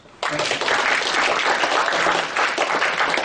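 An audience at a university lecture bursts into applause after a short quiet moment, a loud, full round of clapping that stays steady and unbroken to the end.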